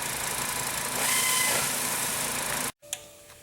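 A Volkswagen car engine runs steadily at idle, a continuous mid-pitched hum and hiss close to the microphone, cutting out abruptly near the end into near silence with only a faint residual tone.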